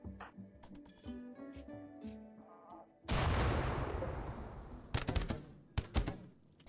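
Raiders fire guns in RimWorld: a loud burst of gunfire cuts in over a tonal game melody, then a spread-out roar with several sharp separate shots near the end.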